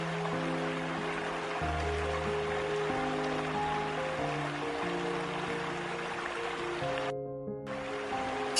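Rushing water of the Devil's Throat waterfall, a steady broad roar heard alone, with sustained musical tones layered over it and a brief drop in the high end near the end.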